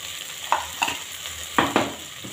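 Vegetables seasoned with chicken spices, potato spices and paprika are stirred in a pan, with a few sharp scraping stirs and a soft sizzle underneath, close and clear with no talking.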